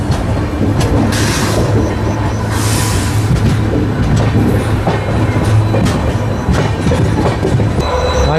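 Passenger train rolling on rails after leaving Subedarganj near Prayagraj, a steady loud rumble with rail clatter and occasional clicks throughout, with no voices.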